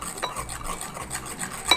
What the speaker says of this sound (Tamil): கொஞ்சம் கொஞ்சமாக போட்டு நம்ம பீட் பண்ணிகிட்டே இருக்கணும்.